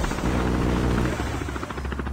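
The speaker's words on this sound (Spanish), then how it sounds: "Vamos a ver que el helicóptero artilla." A chopper gunner helicopter in Call of Duty Mobile, its rotor roaring loud and continuous with a steady throb, close and unbroken throughout.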